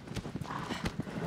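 Horse hooves clip-clop in a steady rhythm across the ground in Shadow of the Colossus, a few sharp close hits spaced through a short stretch over a busy game backdrop.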